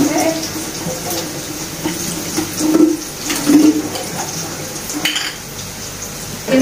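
Cardamom pods, cloves, cinnamon sticks and star anise are washed in water in a pot while making chicken soup, with splashing, swirling water and light clinks of spices and metal against the pot at moderate loudness.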